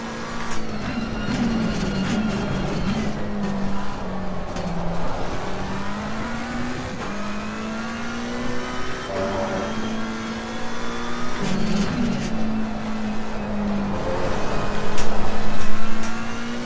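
A McLaren 720S race car engine in Assetto Corsa Competizione at Kyalami drones steadily and loudly, its pitch dipping and climbing through repeated gear changes and rising to a stronger rev near the end, with no talk.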